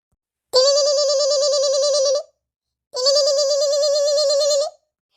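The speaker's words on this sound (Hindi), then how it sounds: "देखो भौजी के फोन आवता है, उठा लियो" A phone rings twice with a warbling electronic trill, each ring lasting under two seconds and separated by a short silence.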